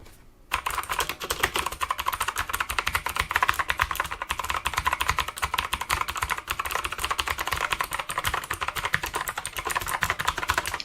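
Steady, fast typing on a Marvo KG965G full-size mechanical gaming keyboard with clicky Outemu Blue switches, a dense run of sharp, uniform clicks up close that carries on unbroken and alone for about ten seconds.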